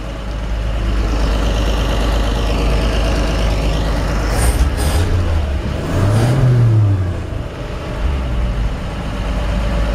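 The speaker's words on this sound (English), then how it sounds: "You can hear the engine runs great." A 1955 Chevy 3100 pickup's original six-cylinder engine idles roughly and then revs up briefly, loud and close, its low rumble dropping back to a steady idle.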